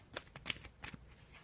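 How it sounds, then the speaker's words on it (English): Energy oracle cards shuffled by hand in a few brisk, papery riffles with short pauses between, close and fairly quiet, with no one talking. "Let me just have a little shuffle of these energy oracle cards"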